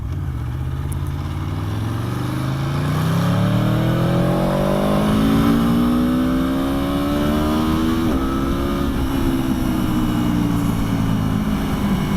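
A motorcycle rides through steady traffic, its engine droning loud and close throughout, with rising and falling pitch sweeps as it accelerates and shifts, plus passing vehicle noise around it.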